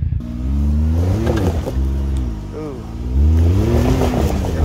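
A side-by-side off-road vehicle, a Polaris RZR or Can-Am X3, rumbles loudly with its engine rising and falling under revs while people talk over it throughout.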